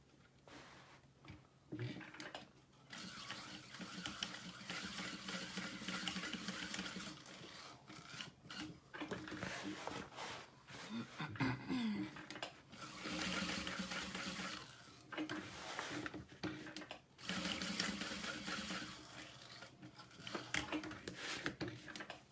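A sewing machine sews a vinyl tote bag with long stitches, running in several bursts with short pauses between them, steady and fairly quiet.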